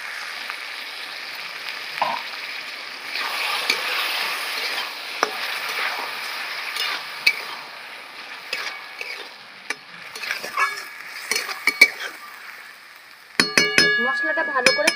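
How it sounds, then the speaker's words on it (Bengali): A spice paste with chopped tomato, salt, cumin powder and a splash of water fries for a magur fish curry, giving a soft continuous sizzle with scraping stirs and scattered spoon clinks that grow busier and sharper near the end. "মশলাটা ভালো করে কষিয়ে নেব।"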